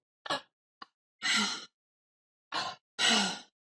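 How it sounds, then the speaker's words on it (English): Forceful mouth exhales from circular, continuous breathwork, several airy whooshes in an uneven rhythm with short silent gaps between them, close and fairly loud with no talking. "exhaling through the mouth in a circular, active way of breathing"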